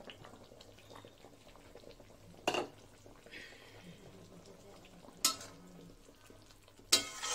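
Curd whisked into water is poured into a simmering methi katla fish curry, giving a low bubbling hiss with a few sharp clatters and splashes spaced across the stretch.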